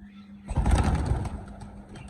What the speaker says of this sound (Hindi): ये सारे कबूतर खोल दिए